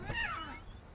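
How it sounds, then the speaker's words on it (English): A cat meows once in the What Remains of Edith Finch video game, a short, fairly faint rising-and-falling cry over quiet background ambience. "Oh, there's a cat out there."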